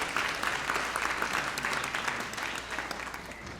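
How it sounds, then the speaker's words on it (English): An audience claps in a sustained, even round of applause at the Global Citizen NOW 2025 event, a dense wash of hands that holds steady and then eases slightly toward the end. "that deserves a round of applause"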